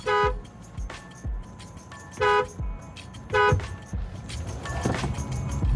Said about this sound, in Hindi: हॉर्न कौन देगा?